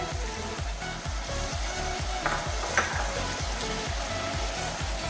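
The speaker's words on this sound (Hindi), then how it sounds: "और इन्हें भी फ्राई करना है।" Potatoes fry in a pan for an aloo methi sabzi while a spoon stirs them in regular strokes, steady sizzling under rhythmic scraping with an occasional light clink.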